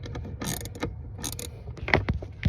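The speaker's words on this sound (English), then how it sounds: "This is a 13 millimeter that I'm tightening down right now." A 13 mm socket tightens a bolt on a Chrysler 300, giving quiet, irregular mechanical clicks and ratcheting scrapes in short bursts, close by with no talking.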